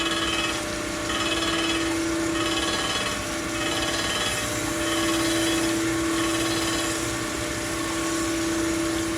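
The crankshaft journals from a Farmall Super C engine are ground on a grinder, producing a loud, continuous, steady grinding whine with a slow rise and fall in intensity and no speech.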